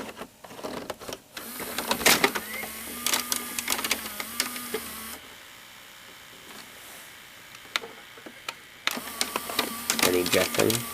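A 1992 Sylvania 4-head VCR loads a tape with whirring motor whine and gear hum, broken by clicks and clatter, mostly steady and close with a quieter stretch midway.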